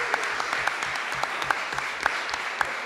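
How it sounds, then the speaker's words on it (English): Audience applause at the close of an evening panel talk, a steady crowd wash with sharper individual claps popping out, fairly close and loud, no voices over it. "one round of applause for everyone here"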